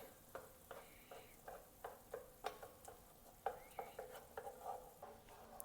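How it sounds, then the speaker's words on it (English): Tomato paste being stirred into a simmering sauce for catfish courtbouillon, a spoon scraping and knocking against the pot in irregular strokes over a soft, steady sizzle, close and fairly quiet with no talking. "We're going to go ahead and add 6 ounces of tomato paste. And go ahead and get that stirred in there good."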